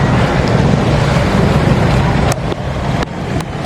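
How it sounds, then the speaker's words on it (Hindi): A boat motors across the sea near James Bond Island in Thailand, a loud, steady roar of engine, rushing water and wind buffeting the microphone that eases slightly near the end, with no talk. "और ये यहाँ की बोट है।"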